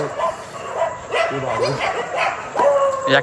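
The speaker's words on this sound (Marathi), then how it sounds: "तिकडचे कुत्रे इथे आले" Dogs barking and yipping at night, several short barks scattered across the clip, fairly close, mixed with people talking nervously.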